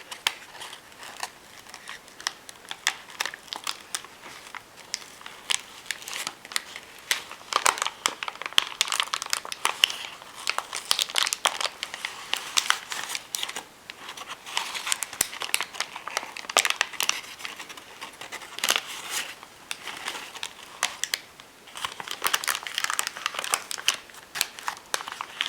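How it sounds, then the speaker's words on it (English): A Lush soap bar is unwrapped from crinkly packaging, with close, soft, irregular crinkling and rustling in bursts throughout and no talking. "so I'll just go ahead and unwrap this for you"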